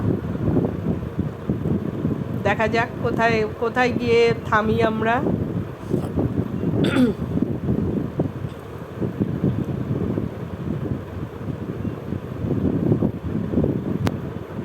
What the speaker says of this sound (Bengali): এখন রাস্তায় ভীষণ হাওয়া।